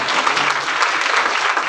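Congregation at a church sermon by a pastor bursting into steady applause, many hands clapping at once in a dense, continuous wash that holds evenly throughout without voices.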